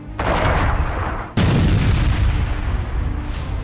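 Two heavy blasts from sci-fi plasma cannons firing on command in a feature film battle, each a sudden loud boom followed by a long rumbling roar.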